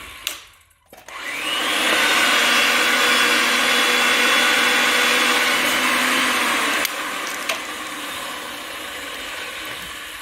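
A Ridgid 300 threading machine reams the end of a cut pipe, running as a loud steady mechanical whir with a tonal hum for several seconds after a brief start-up, then dropping in level near the end.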